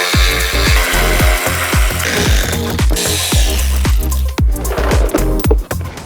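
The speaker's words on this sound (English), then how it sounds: "Shout out to SP Tools for sorting us with the electric ratchet, because as you can see there's thousands of bolts" An SP Tools electric ratchet undoes bolts on a crashed BMW M235i being stripped. Loud, close ratcheting bursts repeat in a quick irregular rhythm, each a short rasping whir with a clicking decay, with no talk.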